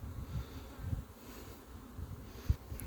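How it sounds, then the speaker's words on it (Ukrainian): Honey bees on an orientation flight around apiary hives make a steady low buzzing drone, fairly close, with a few louder passes and no talk. "У нас навіть бджоли пішли пішли на обліт."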